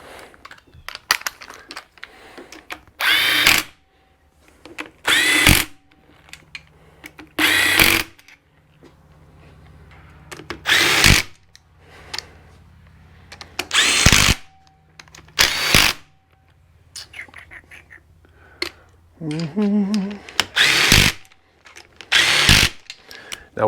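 Power tool tightening bolts on the bottom end of a Massimo engine, about ten short loud whirring bursts separated by pauses, close and clear.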